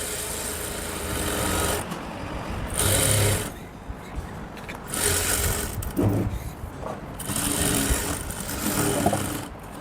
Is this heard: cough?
no